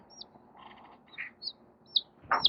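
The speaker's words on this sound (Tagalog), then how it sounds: "Sisiw tawag dyan." A baby chick peeps in short, high, thin chirps, several spaced out over a few seconds and close by, with faint background noise between them.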